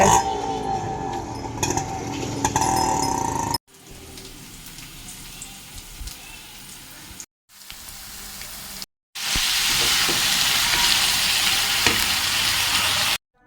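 Fish fries on a tawa in several short cut-together stretches, giving off a loud, dense sizzling hiss, with occasional faint clinks and scraping between them.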